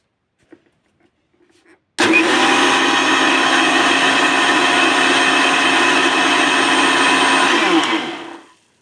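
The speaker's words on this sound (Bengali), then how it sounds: "এখন ব্লেন্ডারে দিয়ে ব্লেন্ড করে নিব।" A kitchen blender whirs at full speed blending jelly with water, switching on abruptly after a few faint clicks, holding a loud steady motor whine for about six seconds, then spinning down.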